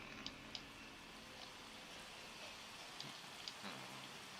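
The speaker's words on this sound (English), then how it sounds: "Raining." Steady rain in the video game Pantheon patters continuously at low volume, with a few faint drip-like ticks scattered across the hiss.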